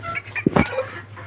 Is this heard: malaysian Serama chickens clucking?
yes